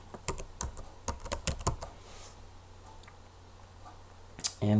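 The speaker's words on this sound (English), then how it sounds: "And we'll finish typing that in." Rapid bursts of keystrokes on a computer keyboard while entering data into an electronic health record, a dense flurry of clicks followed by a pause and a final few taps.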